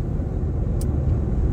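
A car being driven through a strong sandstorm wind, a steady, heavy low rumble of road and wind noise, close and continuous, with no talk.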